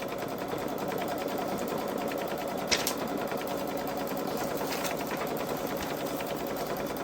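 A Babylock Solaris 3 embroidery machine stitching a placement line, a rapid steady mechanical chatter running throughout at moderate level, with one brief click partway through.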